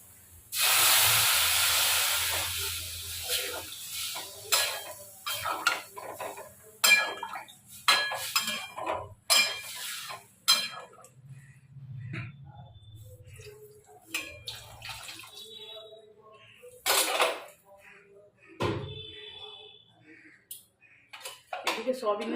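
Water poured into a pan of cooking soybean curry gives a loud rushing hiss at the start, then fades into scattered clinks of pots and utensils with quieter gaps.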